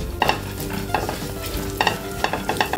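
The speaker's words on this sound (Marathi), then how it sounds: "हे जे ड्रायफ्रुट्स आहेत ते तुपावर चांगले परतून घ्यायचे." Dry fruits being fried and stirred in hot ghee over low heat, with repeated scraping stirs and a soft steady sizzle underneath, close and fairly quiet, no talking.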